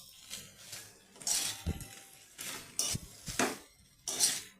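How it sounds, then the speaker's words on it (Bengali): Jackfruit and potatoes being mixed with spices in a pot for eachor jhol, with repeated clinks and scrapes of a spoon against the metal in an uneven rhythm, close and moderately loud with no talking. "এইভাবে খুব ভালোভাবে মশলার সাথে ইঁচড় এবং আলুকে মাখা করে নিতে হবে"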